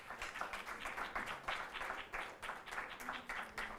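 Audience at an early childhood education event applauds an Anganwadi worker from Gurgaon; fairly faint, distant clapping with a loose pulsing rhythm and a light murmur of voices beneath.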